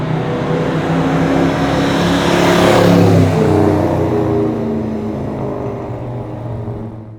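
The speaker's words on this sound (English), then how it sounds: "First gear pulls really strong, second gear even stronger, laying rubber in both those gears." A 1981 Chevrolet El Camino accelerates hard through its gears, its engine note loud and close as it climbs in a long rising pull, peaks, then eases slightly while still droning on; no one speaks.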